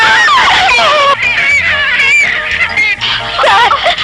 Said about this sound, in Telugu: మా వాళ్ళంతా భయంతో అరుస్తున్నారు సార్